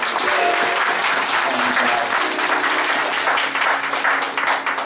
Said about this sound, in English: give them one more round of applause